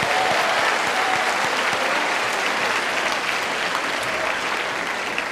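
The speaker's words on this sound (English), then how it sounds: "Let's give one final round of applause to all of our nominees and award winners this evening." An evening awards ceremony audience gives a round of applause for nominees and winners, a thick, steady roar of many hands clapping at an even level throughout, with no voices standing out.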